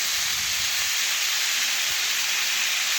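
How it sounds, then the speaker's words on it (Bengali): Papaya pieces stir and fry in a pan with a spatula, a loud, continuous sizzling hiss filling the whole stretch with faint scraping underneath and no talking. "খুরপি দিয়ে ভালোভাবে একটু নাড়াচাড়া করে একটু ভেজে নিচ্ছি পেঁপে"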